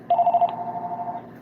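A phone rings close by, giving a single steady electronic tone that warbles quickly at first and lasts about a second before stopping.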